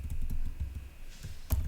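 A few quick computer keyboard key presses made while copying and pasting code, soft close taps in a short burst followed by one louder click near the end, in a quiet room.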